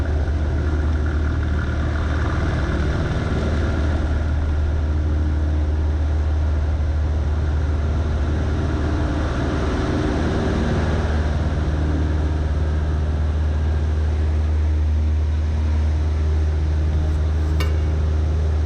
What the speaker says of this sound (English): we lined up our Cessna 172 on the tip of the very first centerline stripe of runway 30 right